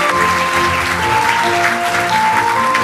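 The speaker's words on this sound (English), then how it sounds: "give a big round of applause" A dense, steady round of audience applause rings through a hall at an international AI forum in Seoul, loud and continuous for the whole stretch.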